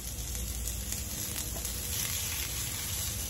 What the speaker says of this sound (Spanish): Aquí ya tengo el comal caliente y vamos a poner unos nopales también